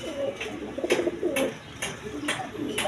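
A breeding pair of pigeons coos in repeated low, throaty rolls, close and fairly loud, with soft clicks between phrases and no speech.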